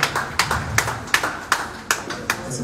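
Steady, evenly spaced hand claps ring out at a press conference to applaud an artist, each clap sharp and close, with a faint murmur underneath.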